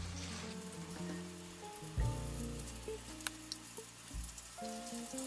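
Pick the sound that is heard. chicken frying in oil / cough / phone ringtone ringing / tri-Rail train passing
chicken frying in oil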